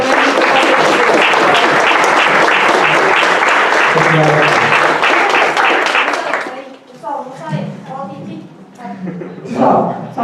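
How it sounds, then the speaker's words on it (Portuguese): Audience at an academic lecture on aesthetics research in physical education and sport breaks into loud, dense applause that fades after about six seconds, followed by scattered voices talking. "Uma salva de palmas."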